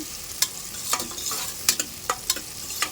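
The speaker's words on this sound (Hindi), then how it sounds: "सॉफ्ट करके ब्राउन कर लेनी है। प्याज को जलाना नहीं है आपको।" Onions frying soft in a pan give a steady close sizzle, with sharp scraping clicks from a spoon stirring them every half second or so.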